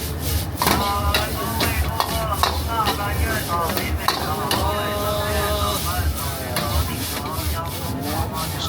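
Rice noodles stir-fried at a Guangdong street stall: continuous scraping and clattering of a spatula against a wok, close and busy, with talk and background chatter mixed in.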